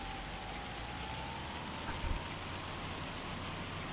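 Hailstorm in the farming game Farming Simulator 25, a steady dense hiss of falling ice and rain hammering surfaces, even and continuous throughout with a brief low thump near the middle and no voices.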